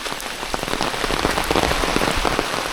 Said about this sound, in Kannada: ಸೊ ಮಳೆ ಮಾತ್ರ ಹೆವಿ ಬರ್ತಾ ಇದೆ